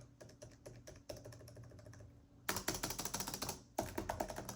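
Fingers type on a Compaq Presario CQ61 laptop keyboard, a close, quiet clatter of quick key clicks in short bursts broken by brief pauses.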